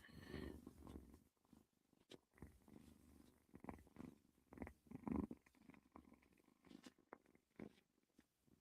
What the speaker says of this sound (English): so that's his purring